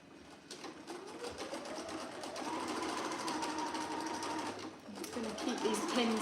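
A squeaky domestic sewing machine stitches fabric, a steady fast mechanical whirring with a thin whine rising and falling, pausing briefly before starting up again, while a voice speaks quietly over it.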